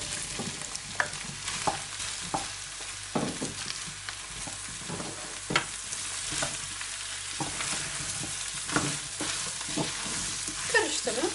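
Chopped zucchini sizzles steadily in a hot pan with fried tomato paste while a utensil scrapes and stirs at irregular intervals, close and fairly quiet.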